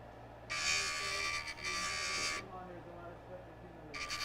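A JoolTool rotary grinder smooths the edge of a metal disc, giving a loud, high buzzing whine in two long bursts with a brief dip between, then a short restart, while a voice talks quietly beneath.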